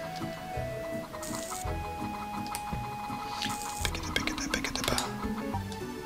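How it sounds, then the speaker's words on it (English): Clucking chickens from a full coop in a farming video game, scattered short bird calls over a busy mechanical clatter of game sounds, moderately quiet with no voices. "Oh my gosh, the chickens are so noisy."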